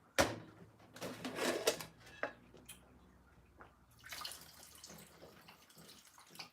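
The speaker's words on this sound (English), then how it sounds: "let's add some more water to this" Distilled water pours into a blender jar in a short splashing burst, then quieter trickles and drips follow, with a second softer pour near the end. The sound is close and moderately faint, with no speech.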